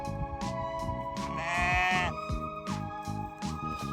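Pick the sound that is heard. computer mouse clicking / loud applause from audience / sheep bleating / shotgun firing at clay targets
sheep bleating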